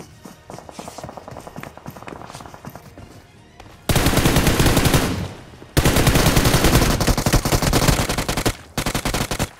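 Heavy gunfire in the mobile battle-royale game BGMI played on an iPad Mini 5: rapid automatic bursts start softly, then turn loud and dense, with near-continuous volleys and short gaps between them.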